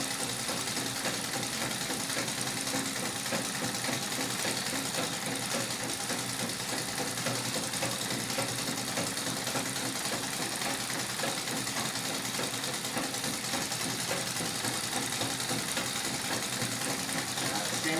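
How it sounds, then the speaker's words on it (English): A Singer 31-15 industrial sewing machine run on a treadle for free motion quilting gives a steady, continuous mechanical whir and rapid needle chatter throughout, fairly faint and even, with no pauses. "3115 commercial machine used in a treadle to do free motion quilting"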